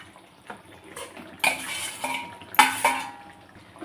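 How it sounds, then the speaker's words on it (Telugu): Omelette pieces are dropped into simmering curry gravy in a pan, with utensil clinks and two louder clattering splashes against the metal, close and clear, with quiet bubbling between and no talking. "ఈ గ్రేవీలో మనం వేసుకోవాలి."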